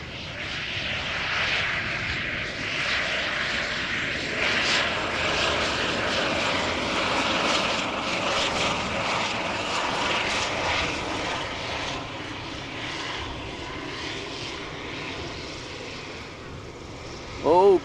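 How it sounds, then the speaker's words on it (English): A Pilatus PC-12 NGX single-engine turboprop arriving at Amsterdam Schiphol Airport gives a loud, steady propeller and engine drone that holds for many seconds. "Pilatus PC-12 arriving from Lausanne."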